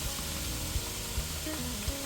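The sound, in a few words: ground beef sizzling as it is added back to the pan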